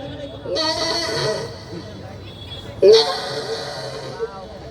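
A man imitates the bleating of a young goat, giving two drawn-out wavering bleats with a pause between them, loud and close, with his voice briefly audible between the calls.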